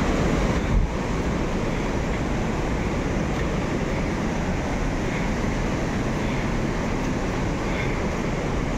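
A big mountain river rushes along a Himalayan trekking trail near Machhapuchare base camp, a constant, loud broadband roar that stays even and unbroken from start to finish.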